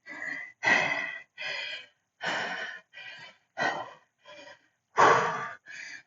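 Heavy, rhythmic breaths after a high-intensity interval workout, about nine loud, separate gasping exhales and inhales with short pauses between them, close to the microphone.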